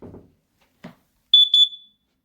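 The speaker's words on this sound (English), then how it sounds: "I was awoken by the sound and beeping at 1 a.m. of my carbon monoxide detector going off" A carbon monoxide detector sounds a sharp, high-pitched electronic alarm of two quick beeps in the middle of the night, loud and close in an otherwise quiet room after faint rustling.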